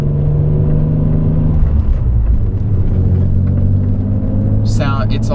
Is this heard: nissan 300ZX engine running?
yes